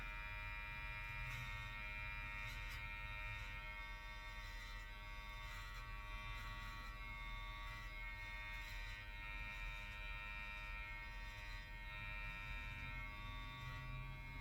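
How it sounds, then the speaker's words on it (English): An electric hair clipper buzzes steadily and close up while cutting hair, a constant motor drone with a bright harmonic whine that holds at an even level throughout, with no talking. "I'm gonna put it in with this clipper."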